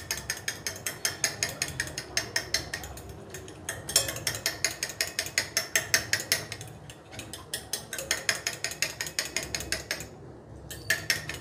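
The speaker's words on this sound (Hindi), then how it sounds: "अंडे को अच्छी तरह मैं बीट करूँगी।" A single egg is beaten briskly in a bowl for fried chicken strips: fast, steady rattling clinks repeat in quick rhythmic bursts with brief pauses, close and clear.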